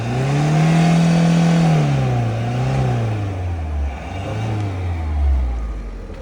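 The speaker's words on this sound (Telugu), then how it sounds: "అన్న ఒకసారి ఏమైనా ఎక్సలేటర్ ట్రై చేస్తారా?" A Ford Fiesta with about 1.3 lakh driven, running slightly rough and blowing some black smoke, revs up on the accelerator; a loud, close engine note climbs and falls across several throttle blips with no talk.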